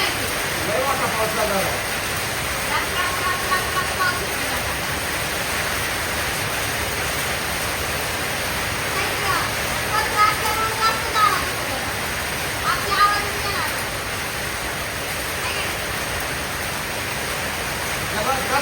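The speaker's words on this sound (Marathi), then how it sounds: "पाऊस चालू झालाय कसा बाहेरच करतो" Heavy rain pours down in a steady, dense hiss that fills the whole clip, with faint voices murmuring underneath.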